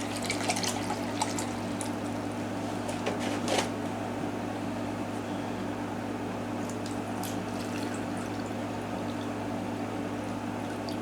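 Tap water steadily pouring into a container to fill a rinse bath for blackening steel T-nuts, a continuous even splashing flow with a few brighter drips and spatters near the start.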